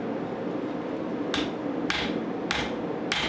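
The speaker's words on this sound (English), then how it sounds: "Hand hammering on the anvil, with the rounding hammer especially, is as quick, if not quicker" Four sharp metallic strikes of a rounding hammer on hot steel against an anvil ring out at a steady pace, close and loud, while forging an axe, over a constant low roar of background noise.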